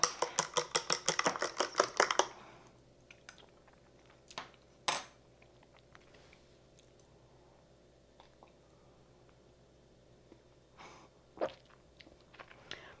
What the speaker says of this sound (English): I'm gonna stir it up before I drink it